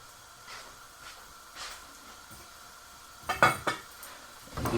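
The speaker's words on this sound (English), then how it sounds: "I'm going to put on a lower heat actually, and I'm just going to add my potatoes in" Potatoes tipped into a frying pan with oil over lower heat, a few quiet clunks and clatters against the pan followed by soft hissing, heard alone.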